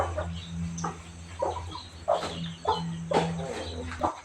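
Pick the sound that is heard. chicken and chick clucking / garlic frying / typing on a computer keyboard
chicken and chick clucking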